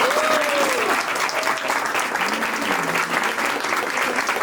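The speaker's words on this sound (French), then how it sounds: "On peut l'applaudir bien fort s'il vous plaît, encore." Loud, dense applause from an audience at a university student talent contest fills the whole stretch as one steady wash of clapping, with a faint voice briefly rising above it near the start.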